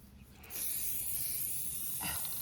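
A steady, airy hiss bursts on after a brief pause and keeps spraying continuously, close and fairly loud, as a spray paint can coats a stock tank garden box.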